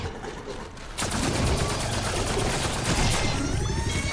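Rapid bursts of nail gun fire in Black Ops 6, a Mystic Gold camo weapon, crackling densely and continuously after a short quieter lead-in.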